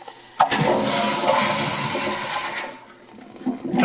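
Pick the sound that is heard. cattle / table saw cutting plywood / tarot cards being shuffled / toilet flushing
toilet flushing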